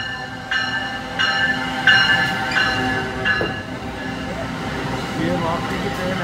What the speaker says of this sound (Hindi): ये वापसी की ट्रेन है जी।